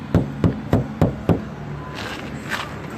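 Knuckles rapping on the thin sheet-metal door of a Dodge Grand Caravan, five hollow, evenly spaced knocks up close, followed by faint background noise.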